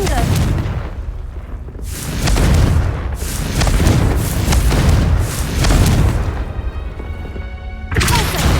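The Confringo fire spell in Hogwarts Legacy sets off a string of heavy booming explosions with rumbling tails, loud and close, separated by brief quieter gaps.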